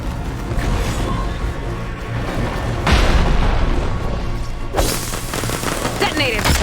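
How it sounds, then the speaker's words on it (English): A machine explodes in Horizon Forbidden West, heavy booming blasts and rumbling detonations layered over continuous combat noise, loud and close, with a second strong burst near the end. "Detonated!"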